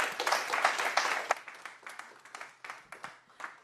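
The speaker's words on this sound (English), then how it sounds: "round of applause for Hoppa" Audience applause at an AI for Founders showcase event, a dense burst of clapping that thins into scattered individual claps.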